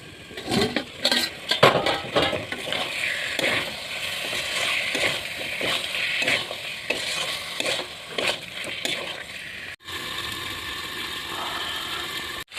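Chicken pieces fry in hot spice masala for a meat and water taro curry, giving a steady sizzle broken by frequent scraping stirs of a utensil against the pan. No one speaks.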